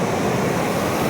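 A wave at Suryalanka beach in Bapatla washes in around the feet, a brief close rush of surf noise.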